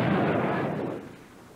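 A loud explosion sound effect: a dense, sustained blast rumbling at full strength for about a second before fading and trailing off, with no voices.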